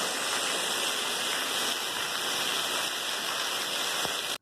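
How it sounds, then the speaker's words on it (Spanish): Rainwater leaking through a roof pours down in a loud, steady rushing wash with no break, close and alone, cutting off abruptly at the end. "Filtración de agua por los techos."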